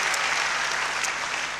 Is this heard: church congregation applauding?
yes